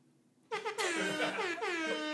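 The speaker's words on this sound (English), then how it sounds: "Can I get an air horn, Cheyenne?" An air horn blast sounds loud and close, a brassy sustained honk with a brief stutter before holding for about a second and a half.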